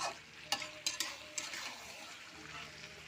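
Potato and chicken curry being stirred in a pan after water is added, with a few sharp spoon clanks against the metal over a soft simmering sizzle, close but fairly quiet, no talking.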